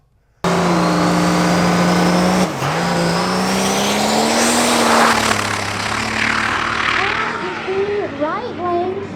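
A nitrous-fed 12-valve Cummins diesel drag truck launches hard off the line, a loud sustained roar with rising harmonic pitch, a brief dip near the start, then fading as it pulls away amid crowd noise and voices.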